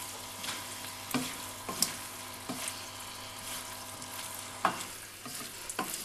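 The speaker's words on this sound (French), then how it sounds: "Je vais mélanger." Beef and courgette pieces sizzle quietly in a frying pan while a spoon stirs, with several sharp scraping clacks against the pan spaced through the steady frying hiss.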